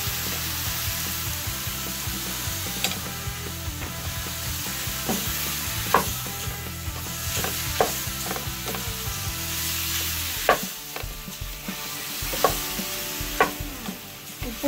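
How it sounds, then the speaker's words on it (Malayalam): Prawns frying in a pan, a continuous close sizzle broken by repeated scraping and knocking as a spatula stirs them, with no voices. "ഇനി ഇതിലേക്ക് നമുക്ക് എടുത്തു വെച്ചിരിക്കുന്ന കൊഞ്ചിട്ടു. നന്നായി ഇളക്കി കൊടുക്കണം."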